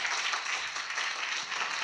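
A church congregation claps steadily in praise during a worship service, a continuous, even wash of many hands with no voices on top.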